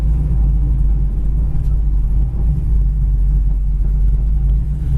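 A 1970 Plymouth Cuda's engine drones in a steady low rumble while the car drives, loud and close with no talking over it.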